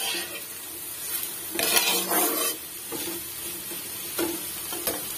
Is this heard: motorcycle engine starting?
no